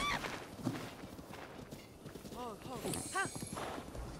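A horse's hooves clip-clop in the video game Breath of the Wild. They sound as a run of quick, light hoofbeats at medium distance, with someone talking over them.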